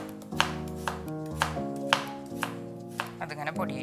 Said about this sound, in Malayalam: ക്യാരറ്റ് ചെറിയ കഷ്ണാക്കി വെച്ചിട്ട് ഇനി അത് പൊടിയായിട്ടൊന്ന് അരിയണം